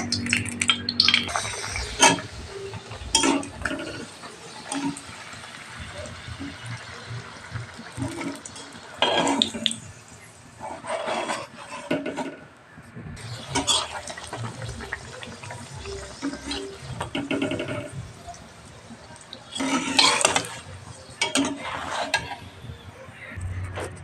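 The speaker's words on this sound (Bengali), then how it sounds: "আর এখানে দেখো পুরিটা ভেজে নেব।" Puris deep-frying in oil in a home kitchen, giving a continuous bubbling, watery sizzle with intermittent clinks of utensils and pans, moderately close.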